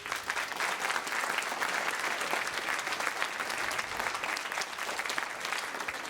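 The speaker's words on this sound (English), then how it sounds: "I think that all of you deserve a round of applause" An audience of adults applauds educators at a school event focused on student engagement, a steady, dense wash of clapping from many hands that fills the room for the whole stretch.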